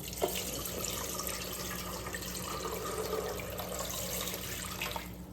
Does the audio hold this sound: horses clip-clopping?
no